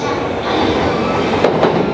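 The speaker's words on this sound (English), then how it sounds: "after jumping on a commuter train, which is part of the whole system here in Tokyo" A Tokyo commuter train rumbles along the tracks, a steady close rolling roar with faint rhythmic wheel clatter. Two brief squeals or clicks stand out near the end, with no clear talk.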